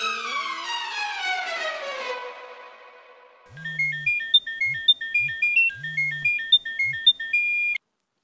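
A phone ringtone plays a bright, repeating electronic melody with a low pulsing beat, loud and close, cutting off abruptly after a few seconds.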